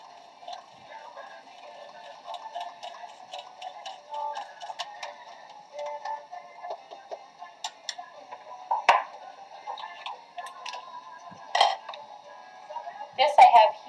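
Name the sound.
whisking egg yolks with evaporated milk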